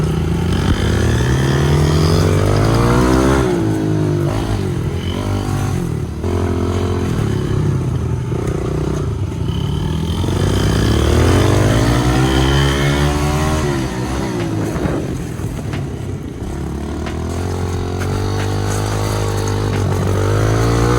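A Yamaha TTR50 kids' dirt bike runs steadily nearby throughout, its small engine droning and rising and falling in pitch as it rides, loud and continuous with some clatter.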